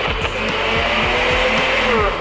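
A personal blender whirs loudly and continuously, its motor pulsing with a rough grinding rattle as it chops stale bread into breadcrumbs.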